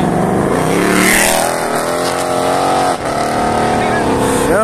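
A Ford Mustang revs at a car meet, its engine note rising and falling in loud sweeps, with a brief dip midway, while people talk over it.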